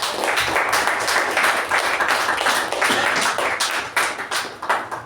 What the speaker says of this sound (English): Please give a huge round of applause to him